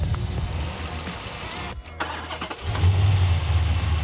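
Dodge Charger R/T V8 fitted with Borla mufflers and American Racing long-tube headers, running close by with a steady low rumble that briefly dips and then swells louder near the end.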